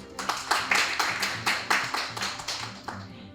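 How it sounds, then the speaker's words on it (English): Audience members at a class debate presentation clap in a short round, roughly a dozen distinct, close, loud claps in an uneven rhythm, slowing and thinning toward the end with no talking. "Can I have a round of applause?"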